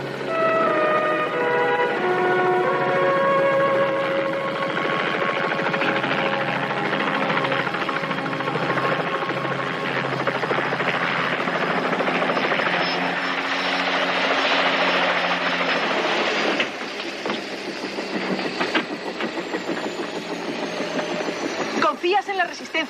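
A helicopter flies and comes in to land in a clearing, its loud steady rotor and turbine drone filling the scene before changing tone and easing off near the end, with voices talking over it.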